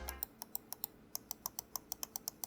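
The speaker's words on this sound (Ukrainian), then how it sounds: "Клік бічники з невеличким зусиллям." Side buttons of a Razer Viper V3 Hyperspeed gaming mouse click in a quick, evenly spaced run, quiet and close, with a short gap partway through.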